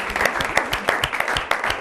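A studio audience at a regional sports television program applauds a guest who is called up. The clapping is close and lively, with sharp individual claps standing out from the wash.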